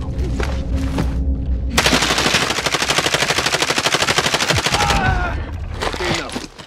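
Rapid machine-gun fire in an online shooter game rattles loudly in a long sustained burst of evenly spaced shots, preceded and followed by shorter bursts, with players talking over it.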